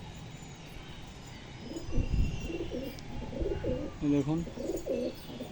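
Pigeons cooing in a series of soft, rhythmic low calls up close, set against quiet background noise while someone speaks briefly.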